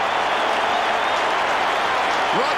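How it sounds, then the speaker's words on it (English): Dense stadium crowd applause and cheering at a 1995 AFL football match between Richmond and North Melbourne at the MCG, a loud sustained standing ovation with a commentator's voice faintly over it. "Richmond, you are getting a standing ovation."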